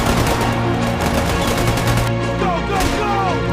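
Gunfire at a combat position comes as rapid, loud bursts of shots in quick succession, close and dense, set against a tonal soundtrack layer.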